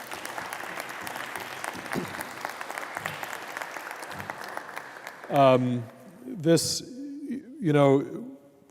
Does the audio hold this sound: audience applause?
yes